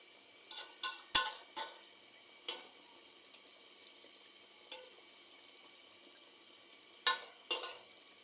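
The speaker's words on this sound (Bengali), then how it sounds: "আবার কিছুক্ষণ পরে নেড়ে দিলাম দেখুন মাংস কিন্তু কষিয়ে এসেছে" Goat meat frying in a pan, a quiet background sizzle broken by a handful of sharp, scattered scrapes and clinks as it is stirred.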